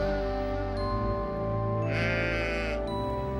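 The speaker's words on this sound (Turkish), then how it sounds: "Sonra İbrahim boynuzlarından çalılara takılmış bir koç gördü" A ram bleats in one long, loud, wavering call over a steady musical drone, heard close and alone.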